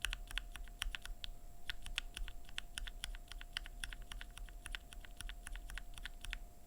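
Fast typing on a keyboard with lubed BSUN Glacier Panda linear switches, a dense, steady stream of close, soft-edged key clacks with a brief pause early on, no voices.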